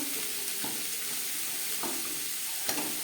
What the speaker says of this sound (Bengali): বিট গাজরের সাথে লবণ বেশ ভালো করে মিক্সড করে দেব